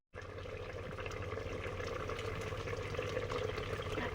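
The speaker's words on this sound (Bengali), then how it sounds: "এবারে জল দিয়ে দেবো।" Water streams into a pan of chicken curry that has been fried down until the oil separates, giving a steady, close pouring and bubbling wash that runs on without pause.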